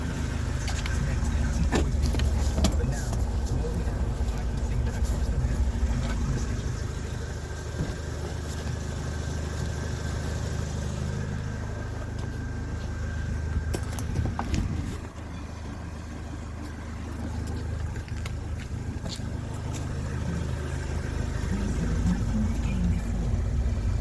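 A Renault Trafic van engine runs steadily at close range during a limp-mode diagnosis, with the wheels spinning and a low, continuous drone and a slight dip midway.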